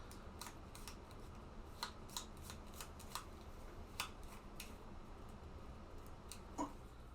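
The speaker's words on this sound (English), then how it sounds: "Since we have to shuffle his deck" A deck of board game cards is shuffled at a table, giving faint, scattered snaps and clicks at an uneven pace against a low room hum.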